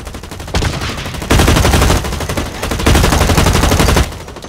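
Rapid automatic gunfire in BlackLight Retribution, a multiplayer shooter, comes in dense rattling bursts: a long volley, a short pause, then two more sustained strings of shots, loud and close throughout.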